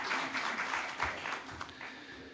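Audience applause after an ambassador's inaugural speech, a moderate, steady patter of many hands clapping for a couple of seconds, slightly distant in a hall, with faint background murmur.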